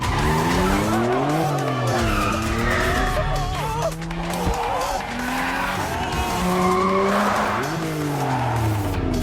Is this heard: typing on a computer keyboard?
no